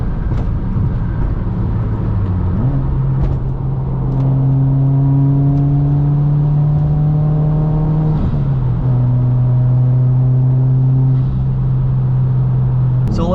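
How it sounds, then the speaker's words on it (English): A modified Subaru WRX with a new pro tune accelerating, its turbo and induction noise louder than the exhaust, heard from inside as the engine pulls through rising gears with steady rising tones and shifts. "when I get on it, you can definitely hear the turbo. You can hear the induction noise a lot louder than the exhaust."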